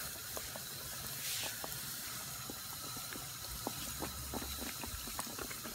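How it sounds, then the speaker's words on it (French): Custard beignets frying gently in a bath of hot oil make a faint, steady bubbling hiss with scattered small pops, soft and continuous. "Il faut les frire à feu doux."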